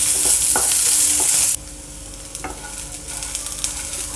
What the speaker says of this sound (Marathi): ह्याच्यात आपण आता थोडंसं तेल टाकू, चांगलं भाजून घेऊ